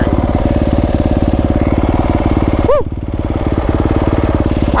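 Yamaha YZ250F dirt bike ridden on city streets, its single-cylinder engine chugging loud and close in a steady rapid pulse, with a brief rev and dip midway before settling back into the same throbbing beat.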